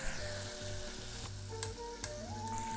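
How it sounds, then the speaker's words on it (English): Chicken wings coated in a starch and salt mix deep frying in oil at 325 degrees sizzle in a dense, steady hiss, with a couple of sharp pops and no talking. "Wings are going in."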